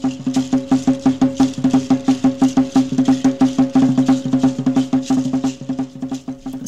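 A coyolera, a seed rattle strung on a cord, is shaken in a fast, steady rhythm of dry clustered clicks that stays close and loud for several seconds and trails off at the end. No one speaks.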